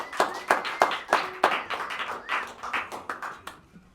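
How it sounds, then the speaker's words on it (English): Applause from a small audience at a song swap, a run of sharp individual claps with a few hands slowing and fading out toward the end, fairly close and sparse rather than a full roar. "Round of applause."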